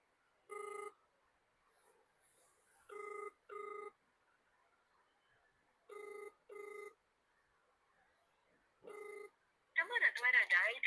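A phone call's ringback tone sounds in evenly spaced pairs of electronic rings separated by silence, followed by a brief recorded voice at the end.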